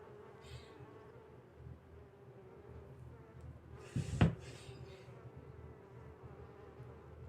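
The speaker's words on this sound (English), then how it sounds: "A stinging beast sounds like a bee." A bee-like stinging beast buzzes in the game Sorcery!, a faint, steady insect drone humming throughout, with a brief louder thump partway through.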